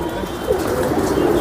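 Pigeon cooing, close and steady, with soft rolling coos filling the short stretch and no voices over them.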